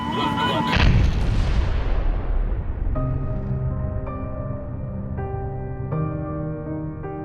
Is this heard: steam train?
no